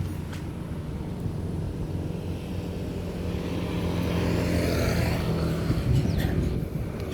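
Traffic pours toward the entrance of the Padang–Sicincin toll road, a steady low rumble of passing vehicles at middle distance that swells slightly toward the end, with no talk.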